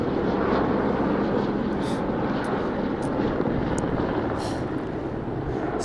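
A helicopter coming in to land in the mountains on a high trekking route, a loud, steady, broadband engine and rotor roar mixed with wind buffeting, unbroken throughout.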